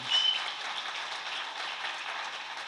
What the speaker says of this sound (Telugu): ఒకసారి బిగ్ రౌండ్ ఆఫ్ అప్లాజ్